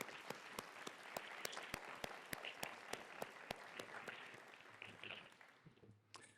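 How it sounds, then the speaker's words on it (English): Audience applauding an award honoree at the 61st annual Deborah Morton Society ceremony, steady clapping from a sizeable crowd with sharp individual claps standing out, fading toward the end. "offering one more round of applause to Gilda."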